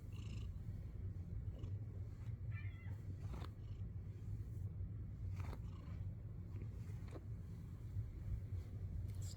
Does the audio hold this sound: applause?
no